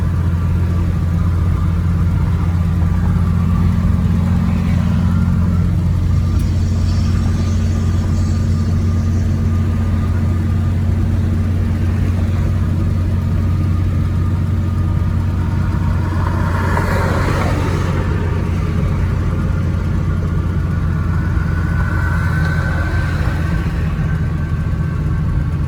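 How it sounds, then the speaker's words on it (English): A 1933 Cadillac V12 five-passenger Town Coupe on a drive near Lake Huron, its steady low engine drone and road rumble continuous and fairly loud throughout, with no talk. "over for a nice drive in a 1933 Cadillac"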